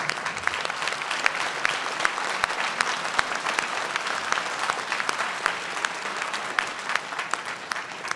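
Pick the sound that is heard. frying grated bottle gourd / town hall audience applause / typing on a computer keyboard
town hall audience applause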